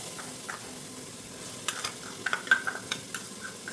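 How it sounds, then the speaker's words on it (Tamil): Garlic for mutton biryani sizzles and fries in oil while a spoon stirs it, giving a steady close hiss broken by scraping clicks against the pan, with no talk. "இப்போ வந்து பூண்டு அடி பிடிக்காமல் கிளறிட்டே இருக்கணும்"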